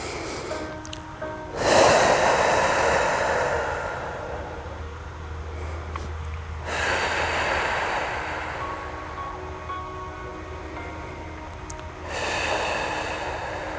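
Slow, deep breaths drawn in and let out while a yoga balance pose is held, three loud breathy swells spaced several seconds apart against quiet, with no talking.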